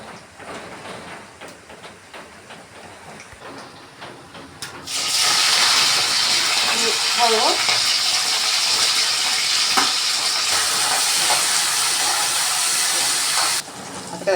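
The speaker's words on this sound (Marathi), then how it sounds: "तेल गरम झालं की त्याच्यावर आपण जिरं आणि मिरची फोडणीला घालायची" Cumin and chillies dropped into hot oil for tempering, first quiet kitchen sounds, then a sudden loud, steady sizzling hiss that lasts about nine seconds before cutting off.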